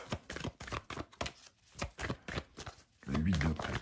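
Tarot cards being handled and shuffled, a run of quick papery riffles and slaps in uneven bursts, ending in a denser shuffle, with a person speaking briefly in between.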